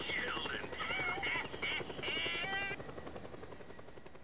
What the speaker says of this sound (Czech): To je nějaký vrtulník.